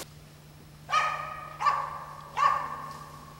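A hunting dog barks at an animal it has treed, three loud, sharp barks spaced about a second apart against a quiet outdoor background, with no talk.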